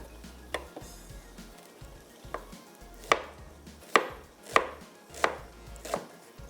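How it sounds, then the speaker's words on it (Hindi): Ginger being julienned with a knife on a cutting board for a Punjabi chicken curry garnish, a series of sharp, separate chops spaced unevenly, close and fairly crisp, with no talking over them. "चलें अदरक को थोड़ा सा जुलीन करके हम शामिल करते हैं।"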